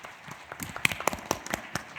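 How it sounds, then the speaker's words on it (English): A small audience at a workplace event claps for a team, giving sparse, distinct handclaps that are fairly near and come in a loose, uneven rhythm for about two seconds. "Please give them a round of applause."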